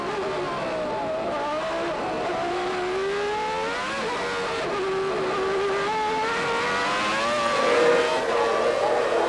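Formula 1 cars racing at Monza in 1995, one continuous high-pitched engine wail that rises and falls through gear changes as the cars brake for the chicane and accelerate away, loud and without talk.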